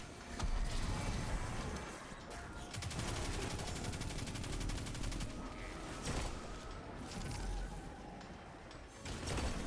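Witherhoard grenade launcher fire in Destiny 2 during a Black Armory boss fight mixes with dense, mechanical combat noise: repeated sharp impacts and a rattling texture at moderate level throughout.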